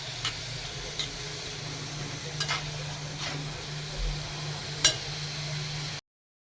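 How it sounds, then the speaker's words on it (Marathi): Carrot halwa cooks gently in homemade ghee, a soft steady sizzle underneath, with a few faint clinks of a spoon stirring the pan and no talking. "इकडे गाजरचा हलवा बनवायला ठेवलेला आहे. छान मस्त गावठी तूप टाकलेलं आहे त्याच्यात."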